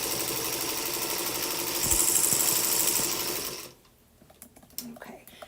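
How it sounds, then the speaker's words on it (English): A sewing machine runs steadily while stitching a quarter-inch quilt seam, a dense mechanical whir that stops abruptly near the end, followed by quieter handling noises. "I'm sewing a 1/4-inch seam here"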